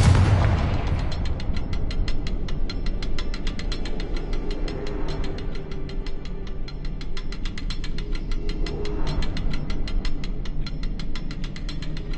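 Spell blasts from Hogwarts Legacy: a booming burst of explosions with rapid crackling, clattering debris that stays loud and dense throughout, with no talking.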